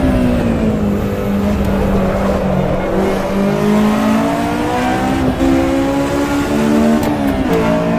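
A Honda S2000 with an added exhaust in the racing game Assetto Corsa EVO, its engine droning loud and steady with rising and falling pitch as it revs through gears, close and continuous throughout.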